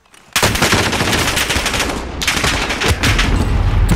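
Sustained close PKM machine-gun fire in Call of Duty: Warzone, a dense rapid rattle of shots running loud almost throughout after a brief quiet start, with one short dip in the middle before firing resumes.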